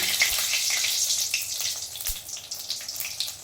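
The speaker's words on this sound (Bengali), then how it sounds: "এবার আমরা এই তেলের মধ্যে দিয়ে দেবো শুকনো লঙ্কা আর জিরে ফোড়ন" Dry red chillies and cumin seeds hitting hot oil for a tempering, a loud, close hiss and crackle that stays steady with small popping bursts and a couple of low knocks, no voices.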